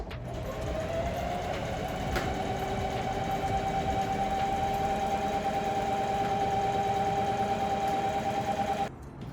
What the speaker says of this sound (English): I'm gonna sew straight, and then I'm just gonna use the back tack and reverse sew and go backwards and forwards